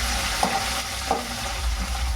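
Peanuts and curry leaves frying gently in oil over a low flame, giving a steady soft sizzle with a couple of brief stirring clinks, fairly close and with no voices.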